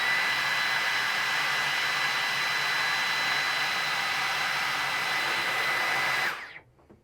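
A Dyson Gen5 cordless vacuum cleaner runs on boost mode with a loud, steady high-pitched whine and rushing airflow. The sound holds evenly for about six seconds, then cuts off abruptly and winds down.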